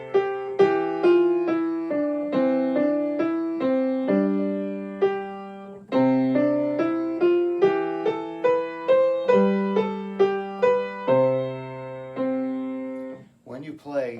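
A simple piano exercise is played, steady single notes and chords moving in a regular rhythm, clear and close, ending with a brief voice.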